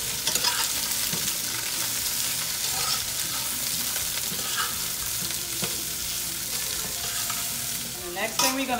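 Chopped vegetables and onion sautéing in a pan, a loud continuous sizzle close by with repeated stirring scrapes throughout and no voices.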